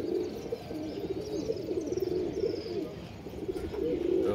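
Pigeons coo in low, repeating throaty rolls, close and continuous, in a rooftop pigeon house with a newly paired couple.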